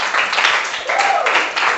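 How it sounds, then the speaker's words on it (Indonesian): Students in a classroom clap steadily throughout, a continuous patter of applause with a voice faintly audible beneath it. "Tepuk tangan semuanya untuk kita semua."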